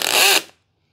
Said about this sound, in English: Just drill straight.